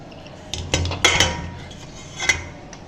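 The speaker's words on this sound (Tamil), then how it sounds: "எல்லாத்தையும் இப்போது மிக்சி ஜாரில் சேர்த்துக்கலாம்." Soaked almonds and cashews tipped into a mixer jar, giving a few sharp clinks and rattles against the jar in quick bursts, then a later single clatter, fairly close with quiet background.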